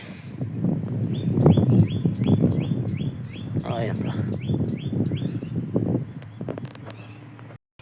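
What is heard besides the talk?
pigeon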